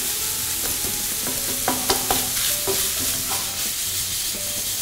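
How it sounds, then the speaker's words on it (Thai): Minced beef stir-fried in a pan for miso rice bowls, with a close, steady sizzle and a few sharp clatters of a spatula against the pan. "ผัดเนื้อให้สุกค่ะ"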